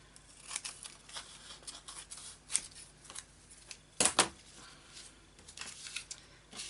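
Scissors snipping paper for a layered-pocket craft page, a few quiet, close, irregular cuts and rustles with one sharper crisp snip midway, no talking.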